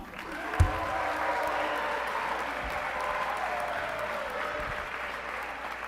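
An auditorium crowd at a state youth assembly applauds for a state representative, steady sustained clapping with a faint murmur, a couple of louder thumps near the start.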